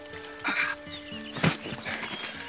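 A horse being ridden outdoors, with soft snorting and shuffling hoof sounds in brief quiet bursts, one louder snort near the middle.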